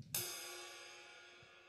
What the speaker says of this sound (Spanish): está tocado cerca de la campana del platillo